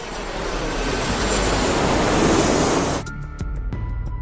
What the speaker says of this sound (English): Plane slowly descended through thick fog, carefully approaching the runway